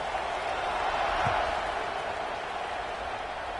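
A stadium crowd roars steadily during a video game American football match with Arkansas Razorbacks, a broad, continuous wash of cheering that stays level throughout.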